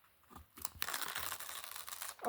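Close, crackly tearing and ripping of tape peeling away from a surface, a few short pulls followed by one longer continuous strip.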